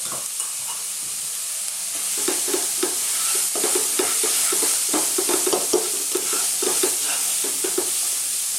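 Tofu chili frying in a pan over low-medium heat with paprika, oregano, chili flakes and cumin, a spoon stirring in a steady rhythm of scraping strokes over a continuous soft sizzle, close and alone.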